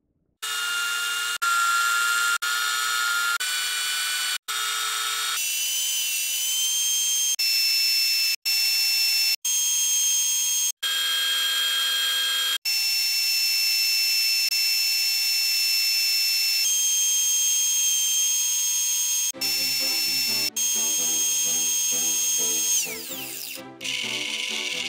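An angle grinder cuts a steel speargun shaft, giving a loud, high, ringing whine close by. The whine comes in bursts with brief gaps between them and turns rougher near the end.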